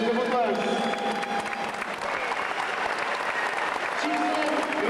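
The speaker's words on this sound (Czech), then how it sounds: "Já si myslím, že to je potlesk." A hockey crowd in Olomouc applauds the Jágr team, with steady, fairly loud clapping running under a commentator's voice and a few higher whistle-like tones.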